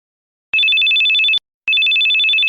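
A telephone rings in two loud, close electronic bursts, each a trilling tone of under a second, separated by a short silent gap.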